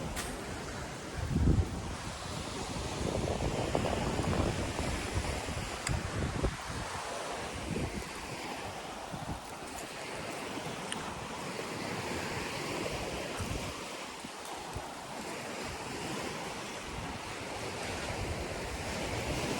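Surf washes onto the rocks at Lamai Beach, Koh Samui, a steady roar of breaking waves with rushing swells and wind buffeting the microphone, no talk.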